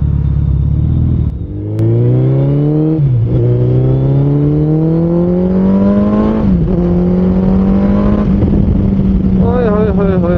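Suzuki Hayabusa motorcycle ridden through Chandigarh streets, engine revving loud and close with a steadily rising drone, brief throttle dips and sharp popping crackles from the exhaust, sustained over about ten seconds.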